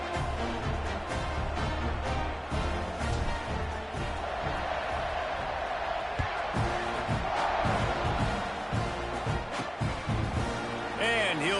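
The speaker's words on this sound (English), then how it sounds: "this crowd is buzzing after that last score" Stadium crowd noise in College Football 26, a Utah State versus Texas A&M game in the fourth quarter, as a steady loud roar and buzz running the whole way through under a commentator's voice.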